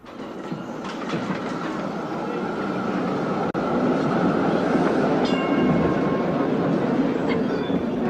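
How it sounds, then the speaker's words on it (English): A tram rolls through a tramway station, a loud continuous rumble and rattle of wheels on rails that grows slightly near the middle, with faint squeals on top and no voices. "In the tramway station"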